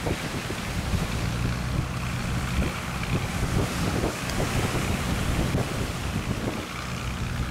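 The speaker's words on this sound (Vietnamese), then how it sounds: "Khá là vất vả khi mà đi với những cơn sóng như thế này nha." A high-speed tourist passenger boat heads out to sea in a storm, its engine roar mixed with heavy wind buffeting the microphone and waves slapping the hull, loud and continuous throughout.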